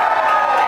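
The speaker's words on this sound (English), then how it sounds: "Big round of applause and congrats to the Sixth River team." An audience at an evening awards event cheers and applauds the first-place winning team, a brief dense wash of crowd noise heard up close.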